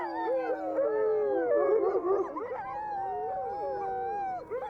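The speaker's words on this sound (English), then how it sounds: "My dogs start to bark when they notice something I haven't." Several sled or working dogs in Norway's Arctic Pasvik Valley howl and yelp in agitation, overlapping wavering howls rising and falling, fairly close, continuous with no talk.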